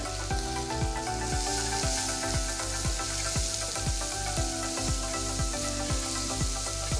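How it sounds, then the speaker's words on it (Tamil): Steady, close sizzling of chopped onions frying in hot oil, with light scraping and stirring sounds mixed into the continuous hiss. "1 பெரிய வெங்காயம் பொடியா நறுக்குனது போட்டு வதக்குங்க"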